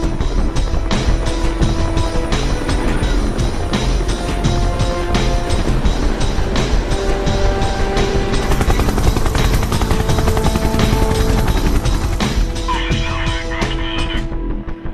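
A steady, loud mechanical drone with a rhythmic rotor thrum holds throughout, a Royal Australian Navy helicopter running close by.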